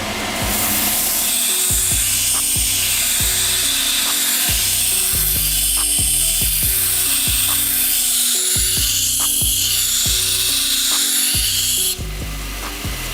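A belt grinder grinds the bevel on a D2 steel knife blade using a worn 60 grit belt, giving a loud, continuous abrasive whir with shifting pitch as the blade is worked, stopping near the end.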